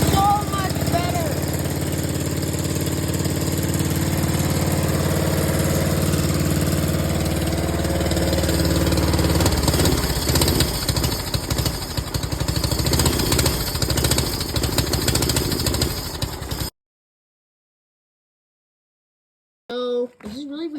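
A lawn mower engine fitted with a homemade off-road exhaust with a can on it runs loud and close with a raw, rattling drone, then cuts out abruptly into silence before a brief final noise.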